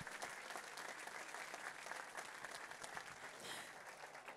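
Steady applause from a crowd at a horse racing and breeding staff awards ceremony, dense continuous clapping that holds at an even level throughout, heard at a distance.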